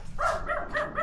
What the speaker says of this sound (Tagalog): Ah, may aso.